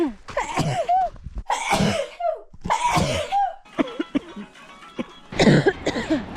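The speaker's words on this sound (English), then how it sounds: "I have the Khumbu cough" Repeated harsh coughing fits from a trekker with Khumbu cough on the Everest trail, close and loud, with wheezy breaths and throat sounds between bursts.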